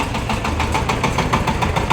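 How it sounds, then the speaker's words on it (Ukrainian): A Shifeng 350L mini tractor engine idles with a steady, knocking chug, close and continuous for the whole stretch. "Зараз будемо завантажувати тракторця"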